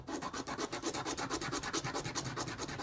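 Sandpaper rubbed by hand across wood in quick, even back-and-forth strokes, a close rhythmic scratchy swish repeating about ten times a second, with no talking.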